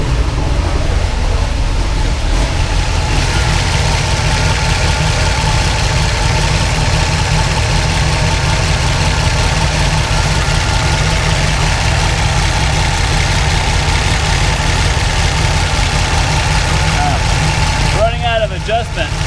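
A Pontiac Trans-Am engine on Microsquirt fuel injection idles with a steady, close, low rumble while its idle speed runs too high, and a voice speaks briefly near the end.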